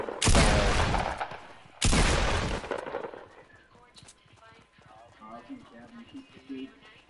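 Two long, loud bursts of rapid automatic gunfire in a shooter video game, separated by a short gap, then quieter game sounds with voices talking underneath.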